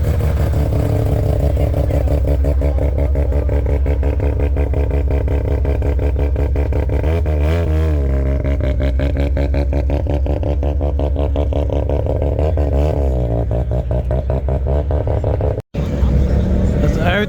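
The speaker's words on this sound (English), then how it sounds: "enjoy the noise of this beautiful rotary" A Mazda RX-7 rotary engine idles and revs repeatedly at a Tokyo night car meet, a loud, buzzy, rising and falling drone close by, with voices talking underneath.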